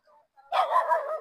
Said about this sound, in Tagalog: May mga aso pa, oh.